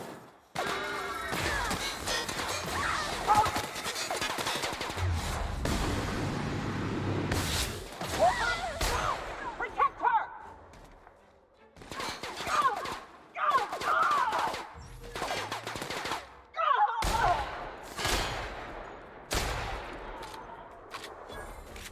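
Rapid bursts of gunfire from the video game The Outer Worlds crack out close and loud in clustered volleys, with sharp impacts and brief lulls between shots.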